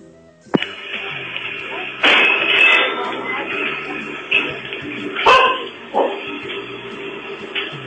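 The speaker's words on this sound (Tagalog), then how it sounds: "Galit yung aso niyo." Angry dog barking close by in sharp bursts, a sudden bark followed by a sustained run of loud, rough barks and yips with brief pauses, ending in a few more sharp barks.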